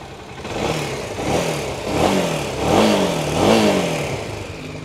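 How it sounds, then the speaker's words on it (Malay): A 2015 Kawasaki Z250SL motorcycle engine revs up several times in a row, each rise and fall rhythmic and close, over a steady idle. "jom kita dengar bunyi motor Z250SL ni guys"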